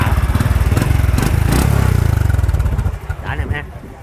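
A 2003 Anpha motorcycle engine idles close up with a fast, steady, loud mechanical pulse. The rhythm slows and fades near the end while someone talks over it.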